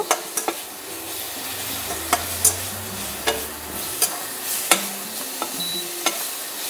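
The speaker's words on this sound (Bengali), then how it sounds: "নুনটা দিয়ে আবারও একটু ভাজা ভাজা করব" Ground spice masala fries with salt in a pan, giving a steady low sizzle broken by regular scraping taps of a spatula stirring it, close and alone.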